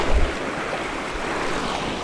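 Ocean waves at low tide wash steadily against the shore, a continuous rushing surf mixed with wind noise on the microphone.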